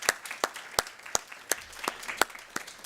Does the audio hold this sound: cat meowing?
no